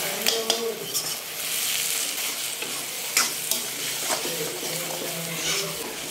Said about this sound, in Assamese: গোটেই মছলাখিনি দি দুই মিনিটমান মই ভাজি ল'লোঁ